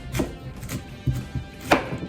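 Knife chopping sweet potatoes into half-inch slices on a cutting board, a handful of separate crisp taps spaced irregularly, close and clear with quiet pauses between cuts.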